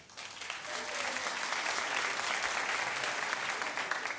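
Studio audience at a television talk show clapping steadily for several seconds, a dense, even wash of hands with no talk over it.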